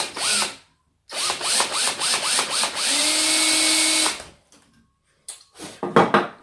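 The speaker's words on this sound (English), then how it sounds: "So basically just get the drill bit in," A power drill bores into a caravan roof to mount a solar panel, with several short rising bursts, then a sustained whine of about a second, then a pause and a few more brief bursts, close and alone.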